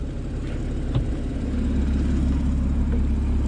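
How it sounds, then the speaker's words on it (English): A Porsche 981 Boxster S with PDK gearbox idles with a deep, steady low burble, close by and continuous, with no voices. "You can just hear that engine burbling there."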